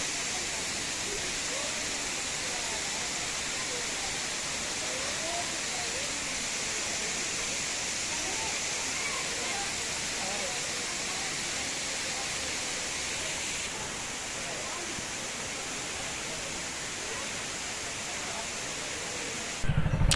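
Water pours in the Sarugudu waterfall with a constant hissing rush that stays steady and fairly loud throughout, ending with a brief bump at the very end.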